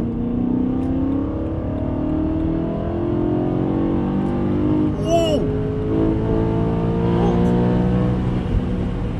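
A BMW M3 engine revs toward 6,500 rpm on a first drive, its steady mid-range drone rising slightly as the throttle is held back, with brief higher tones and a voice talking over it.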